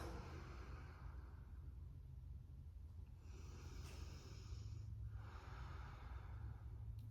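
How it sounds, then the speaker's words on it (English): Slow deep breaths drawn in and let out during a seated yoga pose, a soft airy inhale then exhale repeating under a steady low background rumble, no talking. "Maybe take a few deep breaths. Breath in. Breath out."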